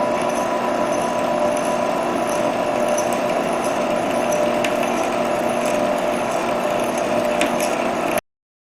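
A power drill bores deeper into a hole in a quilt, a steady, continuous grinding whir running close and loud for the whole stretch with a few faint ticks, then cutting off abruptly.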